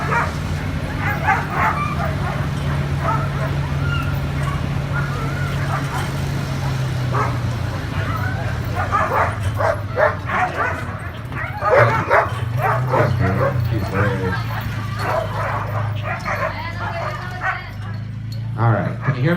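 A pack of sled dogs in Alaska barks, yips and whimpers continuously close by, forming a dense, busy chorus throughout while a person talks over them.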